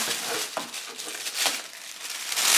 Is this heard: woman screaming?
no